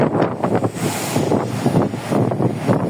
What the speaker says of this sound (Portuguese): Muito vento mesmo aí, ó. Vento bastante forte.